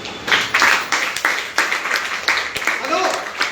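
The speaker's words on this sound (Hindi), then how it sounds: "तालियां जोरदार बेटा।" Audience applause at a corporate training program, a ragged burst of clapping under loud talk from a speaker addressing the crowd.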